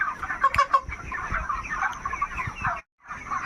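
Chickens cluck and call throughout a poultry farm shed, a dense overlapping flock chorus near and steady, with a brief silent gap near the end.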